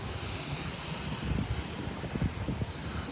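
A British Airways airliner takes off in the distance, its jet roar a steady, broad rumble mixed with gusty wind noise and no other sounds standing out.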